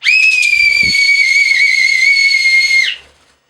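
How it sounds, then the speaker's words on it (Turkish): A single long, shrill whistle blast for parakeet recall training, held steady for nearly three seconds, close and loud, then cut off into silence. "Hala daha tam alışabilmiş değil düdüğün sesinden şey yapmaya"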